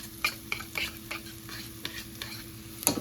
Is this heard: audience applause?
no